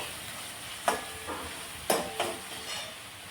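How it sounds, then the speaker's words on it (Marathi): Onion cooks in oil over a medium flame with a soft sizzle. Two or three sharper stirring or scraping bursts stand out, and no one speaks. "कांदा तेलावर परतून घेऊया ट्रान्सपरंट होईपर्यंत"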